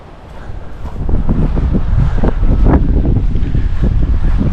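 Steady wind gusting across a microphone beside a fishing pond, a loud continuous rumbling roar that swells after the first second and stays strong throughout.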